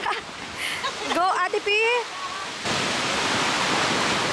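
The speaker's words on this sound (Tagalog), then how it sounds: "So, medyo malakas yung alon ngayon." Strong ocean surf roars steadily nearby in light drizzle at a scuba diving spot, while people shout and call out over the crashing water.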